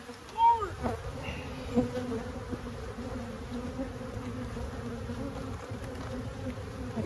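Honey bees buzz steadily around an open hive during a beekeeping inspection where heavy supers are being lifted and burr comb removed; a continuous droning hum fills the scene, with a few louder passes close by early on.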